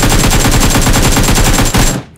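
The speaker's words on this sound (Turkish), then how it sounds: "Mermiyi önüne atıyorum hani çarpsın diye de." Rapid automatic gunfire from the video game PUBG Mobile, a loud, continuous burst of closely spaced shots lasting about two seconds before cutting off abruptly.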